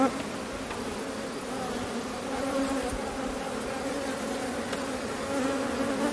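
Honeybees swarm over an opened hive frame during an artificial swarm split, a dense, steady buzzing hum close up that fills the whole stretch without pause.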